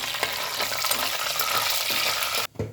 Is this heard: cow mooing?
no